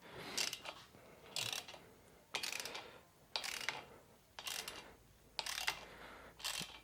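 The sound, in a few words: ratchet wrench working a motorcycle fender bolt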